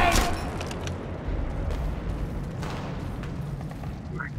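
Grenade blast in the World War II shooter game Enemy Front, a deep rumbling explosion that fills the whole stretch with sustained low booming and debris noise.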